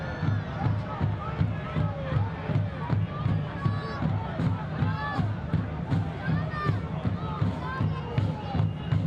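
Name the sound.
home crowd booing the referee at a soccer match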